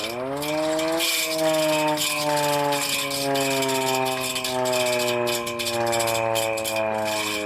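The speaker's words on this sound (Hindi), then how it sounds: "खतरे का जो सायरन होता है वो इस प्रकार बजाया जाता है" A hand-cranked warning siren wails steadily during a civil defence mock drill in India, its rising tone holding a loud, continuous howl with a clattering mechanical rattle underneath.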